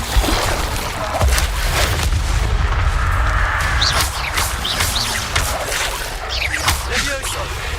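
Incendio fire spell cast in the video game Hogwarts Legacy, heard as repeated whooshing, crackling bursts and low booms over a dense, continuous game soundscape, with a voice present.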